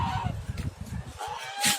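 A goose honks repeatedly at close range in a farmyard, several short nasal calls in quick succession with a louder honk at the end.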